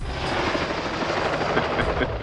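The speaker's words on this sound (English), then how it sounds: "The helicopter purportedly taking Bond to headquarters is revealed to be under the remote guidance of a cackling, wheelchair-clad figure" A helicopter from a James Bond opening sequence thunders loud and steady, its dense rotor and engine roar filling the whole stretch without pause.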